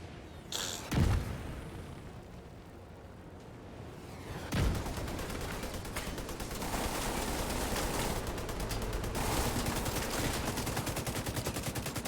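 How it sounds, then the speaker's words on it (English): Two heavy launcher blasts boom out in The Division 2, one early and one midway, followed by sustained rapid gunfire and mechanical clatter. "Oh, come on, that's a grenade launcher. Rocket launcher. Again."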